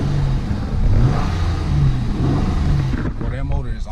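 Engine of a 2008 Honda Accord coupe on stanced 20-inch rims idling steadily with a low rumble, heard from inside the car, with a shift in sound near the end.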